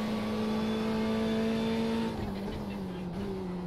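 A Ferrari race car in the iRacing sim sweeps past with a steady, loud engine tone that drops in pitch as it goes by, engine noise filling the whole stretch with no talk.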